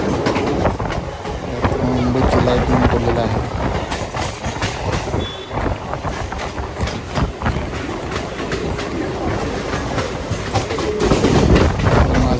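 A Mumbai Western line local train rumbling along at speed at night, loud and close, with rhythmic clattering wheels and occasional metallic squeals; voices murmur faintly beneath.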